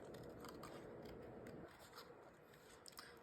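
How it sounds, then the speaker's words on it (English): Scissors fussy cutting around a stamped paper flower, giving faint close snips and papery scraping in a quiet room, no talking. "So I'm going to fussy cut this out."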